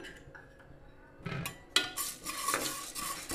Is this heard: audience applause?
no